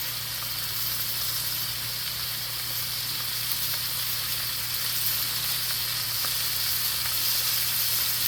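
Beef strips for a stir fry sizzling hard in a hot pan, a dense steady hiss that carries on unbroken and loud throughout, close and with no voices.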